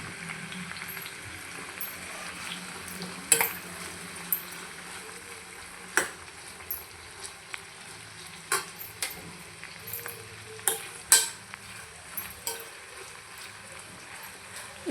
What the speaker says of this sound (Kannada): ಎಣ್ಣೆ ಒಳಗೆ ಹಾಕ್ಕೊಂಡು ಚೆನ್ನಾಗಿ ಫ್ರೈ ಮಾಡ್ಕೋಬೇಕು ಈರುಳ್ಳಿನ